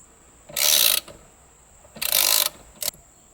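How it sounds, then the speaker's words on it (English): A ratchet wrench tightens a steering wheel nut in two rapid, close clicking runs, with a short extra burst of clicks at the end and quiet pauses between. "you grab your nut from before and you put that on and you just keep tightening"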